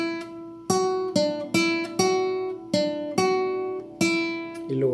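A requinto guitar plays a phrase of a song: about eight clear plucked notes ring out one after another, close and alone, each decaying before the next.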